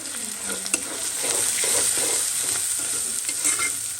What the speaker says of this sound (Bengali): আমি পেঁয়াজটা অনেকটা ভাজি না হালকা হালকাই ভাজি